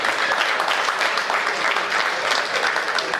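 An audience at a Hindi comedy poetry gathering claps steadily and densely, a continuous even patter of many hands at moderate volume with no talking over it.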